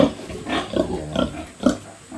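Pigs grunt in short, repeated bursts in their pen, the snorts close and loud, several spaced across the moment with no talking.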